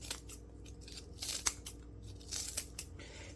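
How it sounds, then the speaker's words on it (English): Several quick, crisp snips of scissors cutting chicken, irregularly spaced, close up over a faint low background hum, with no talking. "I'm just going to take these scissors and do this number to them."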